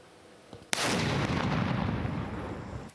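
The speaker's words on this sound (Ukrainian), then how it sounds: "Підірвати його допоміг механічний помічник. Вибух!" A single sharp, heavy blast from a controlled detonation of drone explosives hits suddenly, followed by a long, loud roaring rumble that slowly fades over a couple of seconds.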